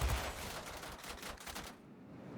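Rapid-fire guns of an F-84F jet fighter in World of Warplanes, heard as a dense, continuous rattling burst that runs steadily for most of the moment before cutting off near the end, with no talking.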